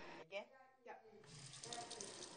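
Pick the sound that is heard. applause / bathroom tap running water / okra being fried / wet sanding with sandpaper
bathroom tap running water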